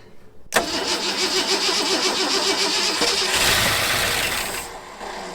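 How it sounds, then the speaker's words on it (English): The engine of a 1974 Ford F100 pickup, primed with starting fluid, cranks with a loud, rhythmic starter churn close to the mic, then catches briefly and roars for a second or two before the sound fades. "and you just push this button and it'll crank over"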